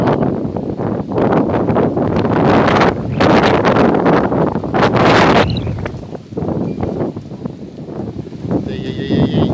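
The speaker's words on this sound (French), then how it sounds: "Et il y a du vent, vous allez avoir du mal à m'entendre" Strong outdoor wind buffets the microphone in loud roaring gusts that swell and fade unevenly, briefly easing before picking up again, with no talking.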